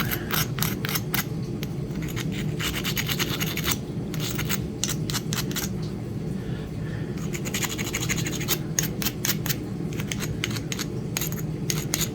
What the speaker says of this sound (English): We're going to grind these points, the edges, so that we can get a hold of it.